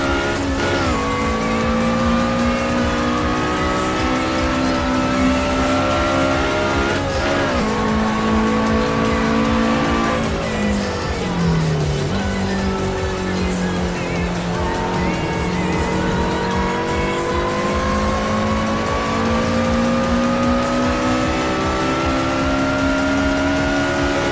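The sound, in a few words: race car engine and tire squeal in Assetto Corsa video game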